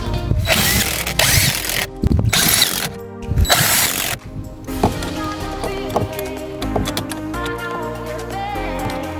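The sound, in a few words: ratchet tightening bolts on car blower motor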